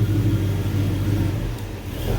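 A Porsche 912E engine rumbles low and steady close by, running slowly for a couple of seconds as the car pulls in.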